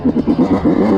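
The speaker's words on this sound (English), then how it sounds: "Give it gas before you let out the clutch." A quad bike engine revs in quick repeated bursts, about eight pulses in a second, loud and close with a rattling edge.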